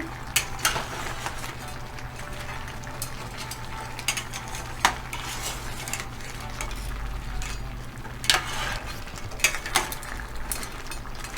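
A spoon stirs crab curry with garam masala in a hot pan, with scraping strokes and occasional metallic clinks over a low, constant sizzle, close by and without talk.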